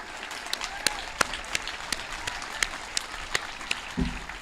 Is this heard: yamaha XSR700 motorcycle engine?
no